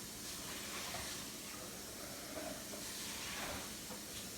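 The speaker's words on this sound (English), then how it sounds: "Oh my gosh, I'm rinsing it under the sink." A Vitamix blender cup being rinsed under a running sink tap, giving a steady rushing hiss of water at a constant level with slight shifts as the cup moves.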